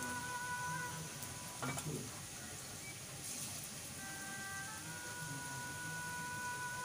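Small dollops of cabbage pakora batter frying in hot oil, giving a continuous soft sizzle with occasional stirring clinks, fairly faint and close.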